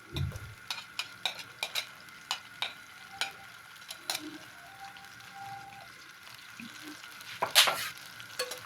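Chopped onions fry in hot oil in a pan for an aloo gobi dish, a steady sizzle under repeated sharp scraping strokes of a spoon stirring, close and clear, with no talking.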